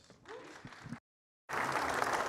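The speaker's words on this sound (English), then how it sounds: "Big round of applause" A conference audience at the JNUC 2023 Jamf event applauds presenters, with a voice at first, then an abrupt silent break before fuller, brighter clapping resumes.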